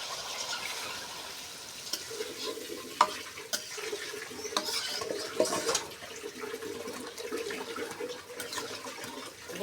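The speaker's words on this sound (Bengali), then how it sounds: "কষে নিচ্ছি দেখুন" Vegetable curry of potol, potato, okra and pumpkin with bori is stirred in a pan, giving faint irregular scraping and soft sizzling at a low level, with occasional small clinks.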